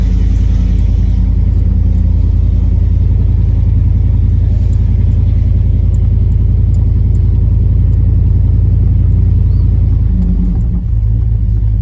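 A 1993 Chevrolet OBS pickup with a freshly installed 350 V8 drives steadily, its loud, close engine rumbling without a break and rising slightly before easing off near the end.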